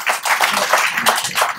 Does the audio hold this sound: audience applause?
yes